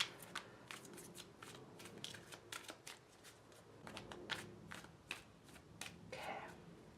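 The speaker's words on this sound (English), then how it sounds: "Just a quick shuffle." Tarot cards shuffled briskly by hand for a quick reading, a run of soft riffling flicks and slaps close to the microphone with no talking.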